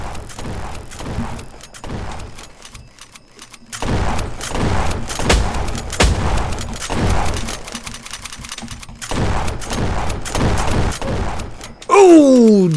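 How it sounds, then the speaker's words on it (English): Gunshots fired at the player in Roblox Jailbreak, rapid clusters of cracks recurring in bursts through the stretch, mixed with game sounds and someone talking over them. "He's shooting at me."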